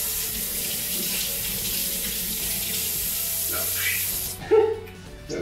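Water from a kitchen faucet runs in a steady hiss while hands are rinsed under it, then briefly splashes and stops near the end.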